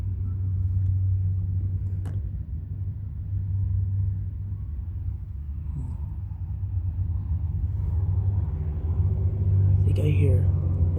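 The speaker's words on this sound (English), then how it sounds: "Yep, that was just a pickup. Diesel pickup." A diesel pickup truck passes along the I-84 highway. A steady low roadside rumble swells near the end as the vehicle goes by at moderate distance.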